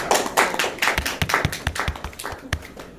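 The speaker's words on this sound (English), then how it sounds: "With a round of applause," An audience gives a round of applause welcoming the race director at a cycling criterium press event, a scattered patter of claps with distinct individual hand strikes, fairly close and steady before fading slightly.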